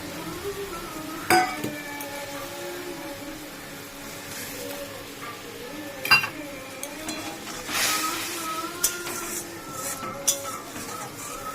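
Soft sizzle of ginger and green chili paste stir-frying in a pan, with a few sharp metallic clinks of a utensil against the pan at intervals.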